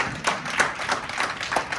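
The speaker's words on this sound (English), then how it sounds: "ladies, let's give the fellas a round of applause" Scattered claps from a small group of men at a TPUE event, coming as a few spaced bursts of clapping that stay fairly loud and close, with no talk over them.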